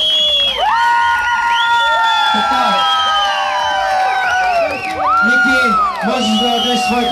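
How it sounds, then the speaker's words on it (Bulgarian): A competition crowd at a national flair bartending contest cheers, whoops and shouts loudly and continuously, with excited voices rising and falling over the noise. "да чуя вашите аплодисменти за нашия представител"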